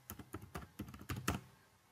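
A phone number is typed on a computer keyboard: about a dozen light, quick keystrokes in an uneven rhythm, close and clear, with no talking.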